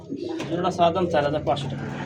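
A new adult pigeon in a red cage coos several times, soft throaty pulses close up, while someone talks over the birds at a market stall.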